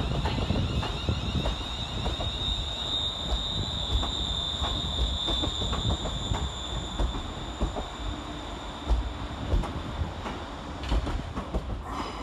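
A Class 802 train departs Glasgow Central station on an empty stock working, a steady rumble with wheel clatter and a high squeal, heard from the platform amid station ambience.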